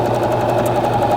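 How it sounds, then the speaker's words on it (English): Janome 725S sewing machine starting to sew, a steady fast mechanical whirr and needle chatter, close and loud, alone without talk. "we're going to start sewing"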